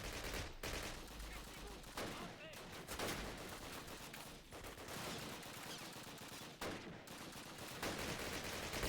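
Bren light machine gun fire in the 2003 Call of Duty British campaign, with loud continuous bursts of automatic gunfire and battle noise filling the whole stretch.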